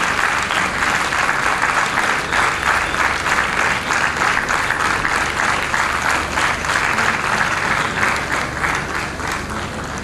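Steady, loud applause from a large graduation ceremony crowd at a junior college, dense continuous clapping sustained evenly for about ten seconds.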